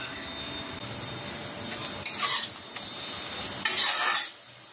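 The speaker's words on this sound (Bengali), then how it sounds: "পেঁয়াজটা বেশ লাল লাল করে ভাজা হয়ে গেছে" Onions frying in a pan, a low steady sizzle broken by a few bursts of louder stirring and scraping close by.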